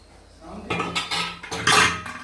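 A metal lid is set onto a cooking pot with a short clatter and ringing clanks, near and fairly loud, and no talking is heard.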